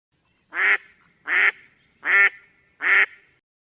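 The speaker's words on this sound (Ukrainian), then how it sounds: "Це качка." Four loud, evenly spaced honking quacks from a domestic duck, each call about a quarter second long with short pauses between, close and clear with no talk.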